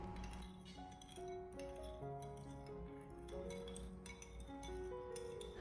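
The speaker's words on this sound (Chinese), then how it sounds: "然后再用勺子将它搅拌一下，让所有调料给它充分的化开" A spoon stirring a seasoning sauce of vinegar, sugar, salt and water in a bowl, giving faint, scattered clinks against the bowl under a low background hum.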